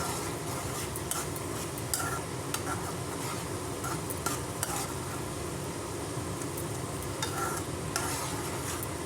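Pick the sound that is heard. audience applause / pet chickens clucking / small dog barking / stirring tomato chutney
stirring tomato chutney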